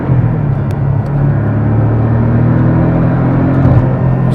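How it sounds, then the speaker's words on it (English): Steady, close engine drone from a 2024 Porsche Cayman S turbo four-cylinder with the loud exhaust mode off, a low, even hum under a constant cruising load with a slight swell near the end. "this Turbo 4 is still an unbelievable power plant, and it sounds good"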